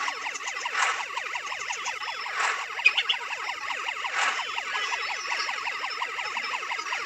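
An ambulance siren sounds in a Meena Raju video game. It is a steady, fast-repeating electronic wail that continues unbroken and fairly loud, with no voices over it.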